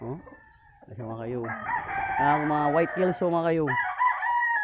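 Gamefowl roosters on a small farm crow loudly several times in succession, with clucking between calls, while someone talks nearby.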